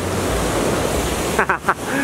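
Lintungan Falls rushes with a dense, steady roar of falling water close by, and a voice speaks briefly over it near the end.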